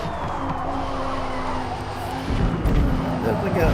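Race car tires skidding and squealing from oversteer in Forza Motorsport, with a steady loud engine drone throughout that roughens and swells in the last second, and a voice talking underneath.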